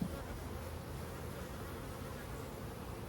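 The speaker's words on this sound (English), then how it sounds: "Got a bee crawling on my foot." Honeybees buzz steadily around an open hive on a hot Georgia day, a dense, close, unbroken drone with no voices.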